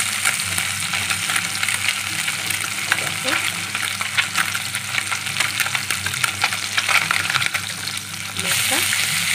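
Mourola fish frying in oil in a kadai, a steady dense crackling sizzle with scattered pops and spatters, close and continuous, with a low hum underneath.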